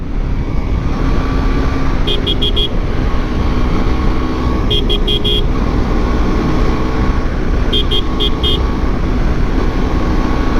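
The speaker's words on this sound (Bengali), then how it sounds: "এই ওয়েদারে GSX-R উইথ 100 স্পিড।" Suzuki GSX-R motorcycle riding at speed on a highway, a steady loud rush of wind and engine roar throughout, with brief high-pitched bursts recurring a few times.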